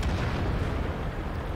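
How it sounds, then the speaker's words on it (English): Tank cannon fire in World of Tanks, a heavy gunfire boom at point-blank range against an STI tank, with a dense rumbling low-end burst that holds steady and loud through the moment. "Alex moves up, puts in a shot at point blank range on the STI."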